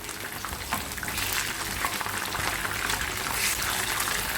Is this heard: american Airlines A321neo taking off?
no